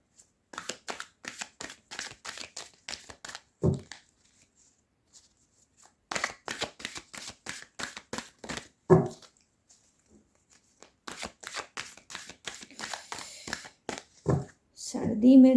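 Tarot cards are shuffled by hand in quick riffling bursts with pauses between them, close and soft, while someone talks at times in between.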